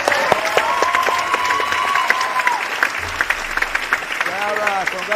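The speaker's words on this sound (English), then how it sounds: "Now you can clap hands." An audience applauds at a Gracie Barra jiu-jitsu end-of-year belt promotion, sustained clapping from a crowd indoors while someone speaks over it.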